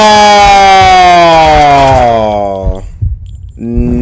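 A loud, wailing police siren in the video game Max Payne 2 sweeps downward and cuts off, then restarts briefly, close and dominant with some low thumps underneath.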